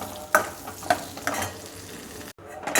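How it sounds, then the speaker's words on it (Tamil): Cashews and almonds roast in hot ghee for sweet potato payasam, a close, loud sizzle broken by a few sharp scraping stirs of a spoon, then a brief drop to near silence at the end. "முந்திரி பாதாம் தான் வந்து வறுபட ஆரம்பிச்சிருக்கு"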